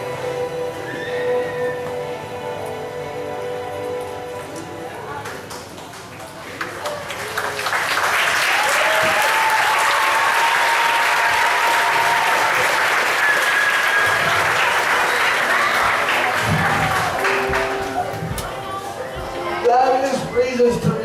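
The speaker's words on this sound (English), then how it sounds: "Thank you for clapping." Sustained audience applause from a church teaching session crowd swells loudly and fills the middle of the clip. Talk comes before the clapping and returns faintly as it fades.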